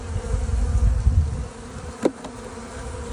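Honeybees buzz at a hive in February, a close, steady drone of many insects with a brief louder swell near the end.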